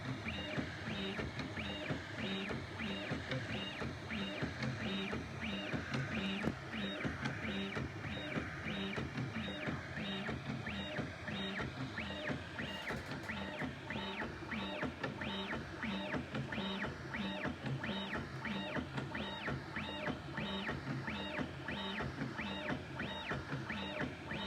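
A Prusa 3D printer upgraded with dual Y stepper motors runs at high speed, giving a fast, rapidly repeating whirring and buzzing of motors that stays steady throughout, close but fairly quiet, with no speech.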